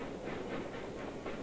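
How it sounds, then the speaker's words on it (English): A steam locomotive train runs on rails, giving a steady rushing hiss and rumble with faint rhythmic chuffing, continuous and fairly distant in an old recording. "The steam locomotive, the laying of the tracks."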